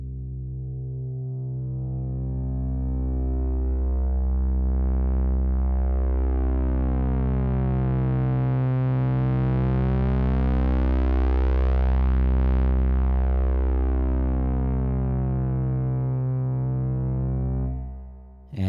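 A sustained synthesizer pad drones steadily for many seconds, its tone slowly shifting and beating, bathed in reverb before cutting off abruptly.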